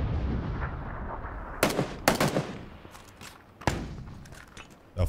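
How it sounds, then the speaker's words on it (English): Flashbang grenades go off during a PUBG match: a few sharp blasts in quick succession, then another burst and more scattered bangs over a rumbling game background. "Oh, flashbangs."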